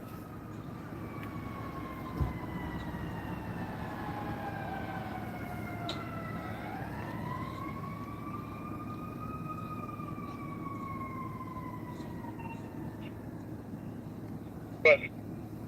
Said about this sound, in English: So you can hear the sirens.